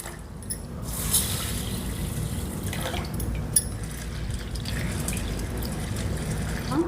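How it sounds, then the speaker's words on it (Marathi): Water splashes and trickles steadily as Indrayani rice and lentils are swished and rinsed in a container, a close, continuous wet sloshing with no talking. "हे दोन्ही स्वच्छ धुवून घ्यायचे"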